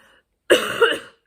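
A single harsh cough bursts out after a moment of silence, close and fairly loud, with a rough throat-clearing quality and no speech around it.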